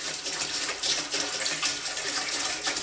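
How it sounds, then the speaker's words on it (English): Tap water pours steadily into a pot while two gallons are measured out for brewing an American blond ale, a close, continuous splashing gush with no talking. "So I'm going to put 2 gallons in the pot"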